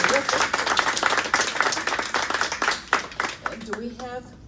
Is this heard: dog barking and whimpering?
no